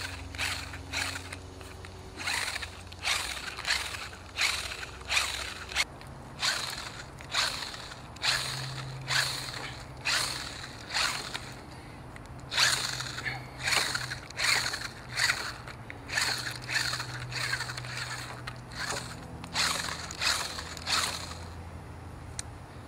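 A hand-cranked drill spins hard drive platters in a hydrogen electrolysis setup, making about thirty repeated bursts of ratcheting, whirring mechanical noise in a steady rhythm, close by and without talking.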